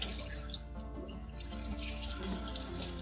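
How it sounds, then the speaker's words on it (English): Running water from a tap rinses salmon skin to wash off fish scales, a steady close splashing flow that holds throughout with no talking. "Now I am gonna wash this with water and will remove all the fish scales as well."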